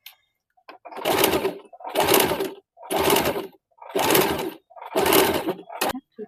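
A sewing machine fitted with a piping foot stitches over piping on a boat-neck back blouse, running in five loud, close bursts of steady whirring separated by short pauses.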